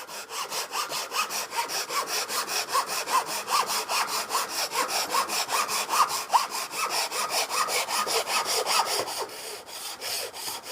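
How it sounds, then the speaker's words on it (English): Japanese pull saw cutting wood for a half-lap dovetail on a drawer, a steady rhythmic rasp of even strokes about two per second, close and loud, running continuously with no talk. "Japanese saws cut on the pull,"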